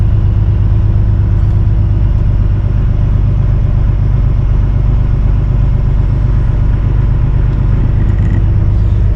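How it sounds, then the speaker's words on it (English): Fuel tanker truck hauling gas, heard as a steady, loud low engine rumble and road drone throughout, with no clear pass-by swell. "Right here you got a gas hauler who's making his way up."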